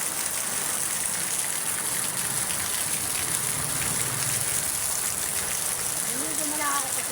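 Heavy rain pounds steadily on a roof, a dense, continuous roar of drops with no pauses.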